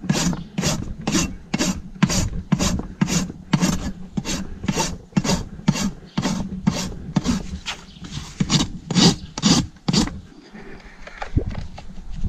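A farrier's rasp files flares from the top of a horse's hoof in about twenty rhythmic, evenly spaced rasping strokes, close and clear with no talking.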